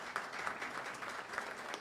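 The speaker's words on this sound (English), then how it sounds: "let's give Vivian a round of applause" A church congregation applauds during an Advent service, a short, fairly quiet burst of steady clapping with no speech over it.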